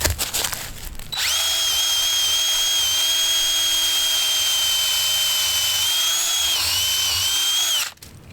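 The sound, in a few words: power drill boring a hole through wooden swing beam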